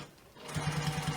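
Sewing machine stitching a bag, a short quick burst of regular needle thumps starting after a quiet moment and running close and steady.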